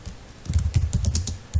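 Quick clicking keystrokes on a computer keyboard while Java code is typed, an uneven run of close, crisp taps with brief pauses between clusters.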